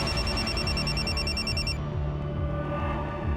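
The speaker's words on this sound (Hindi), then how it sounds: "सर वो रूपाली जी के असिस्टेंट तुषार का फोन था।" A telephone rings with a steady electronic trill, repeating pulses that cut off partway through, over a busy background of music and ambient noise.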